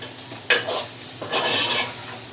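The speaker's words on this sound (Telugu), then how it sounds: "వేసిన తర్వాత కూడా మనం ఒక 5 నిమిషాలు కూరను వేయించుకోవాలి." Taro root curry fries in hot oil, with a spoon scraping and clinking against the pan in two bursts of stirring over a constant close sizzle.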